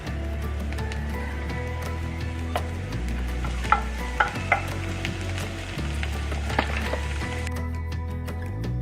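Tomatoes tossed into a pan with browned garlic sizzle steadily and close, with stirring and a few sharp clinks of a utensil against the pan, for a Filipino mung bean dish.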